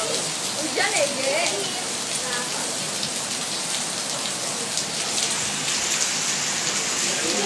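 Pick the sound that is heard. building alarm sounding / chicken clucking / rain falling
rain falling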